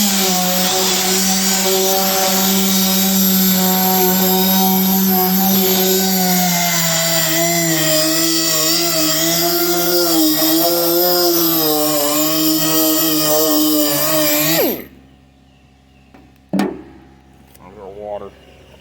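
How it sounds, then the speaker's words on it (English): Electric sander wet sanding a John Deere LA115 mower deck, a loud steady whining drone held for about fifteen seconds, then cutting off into near silence with a couple of short knocks. "Alright, I got my little sander here."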